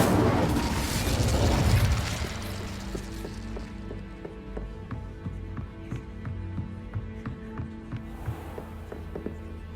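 A fire spell goes off in Hogwarts Legacy with a loud whooshing burst of flame in the first two seconds, then fades into a quieter bed of game music and ambience.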